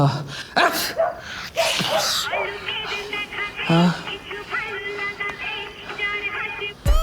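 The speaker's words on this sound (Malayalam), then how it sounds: "ഉച്ച മുതൽ തുമ്മിക്കൊണ്ടിരിക്കുകയാണ്" Several sharp sneezes from a person who has been sneezing since afternoon, close and abrupt, scattered among talking voices.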